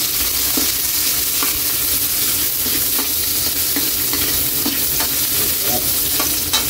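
Onion frying in a hot pan with pork to follow, a steady loud sizzle with scattered crackles and stirring clicks throughout, no voices.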